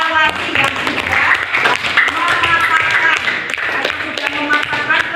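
A classroom gives a student a round of applause, with many hands clapping in a busy, uneven patter that carries on steadily and mixes with talk and voices in the room.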